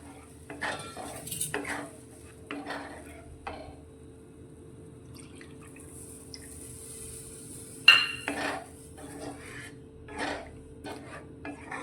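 Semolina and milk being stirred in a metal pan for an instant sweet, intermittent scrapes and clinks of a spoon against the pan with quiet pauses and one sharper knock, close and soft.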